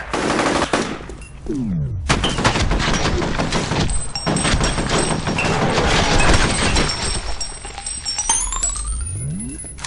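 The player's gun firing in the shooter game F.E.A.R., loud rapid automatic bursts that go on almost nonstop, close up, with sweeping game effects in the gaps.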